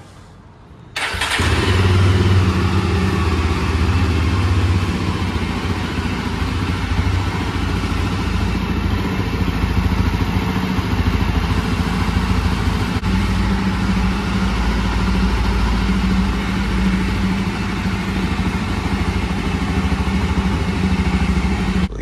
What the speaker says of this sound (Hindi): एक बार इसका एग्जॉस्ट नोट आपको जो है सुना देते हैं बाइक का साउंड